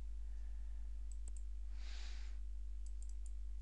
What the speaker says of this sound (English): click on the save button